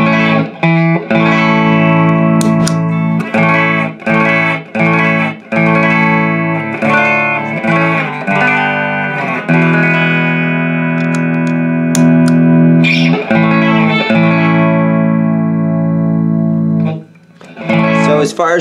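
An electric guitar plays through a Dynamo Self Esteem EQ boost pedal with a slightly raised volume, giving loud, sustained riffs and held chords up close that continue for most of the stretch before a short pause.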